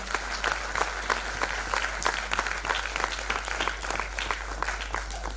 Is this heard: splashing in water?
no